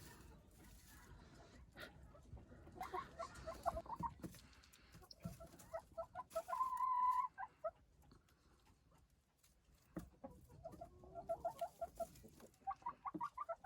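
Lohmann White laying hens cluck in short, uneven bursts close by, with a brief louder squawk partway through and quieter rustling between calls.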